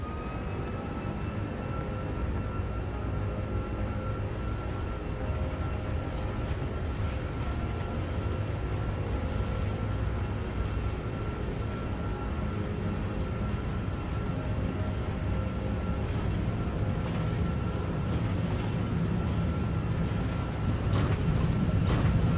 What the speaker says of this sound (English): Qatar 185 is taking off runway 33 right to Riyadh.